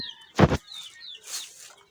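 Tiger chickens at a poultry farm give one loud, brief squawk near the start, followed by softer chirps and clucks nearby.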